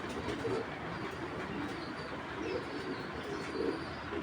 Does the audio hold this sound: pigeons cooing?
yes